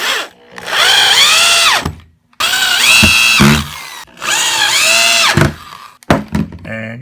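A power drill drives 1.5 Torx head wood screws into wood in three loud whirring bursts, each pitch sagging as the screw seats, separated by short pauses and ending in clunks.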